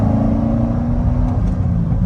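A Chevrolet Corvette C6 V8 rumbles in gear from inside the car, a steady low engine drone with a slight rise in revs, close and fairly loud, with no talking over it.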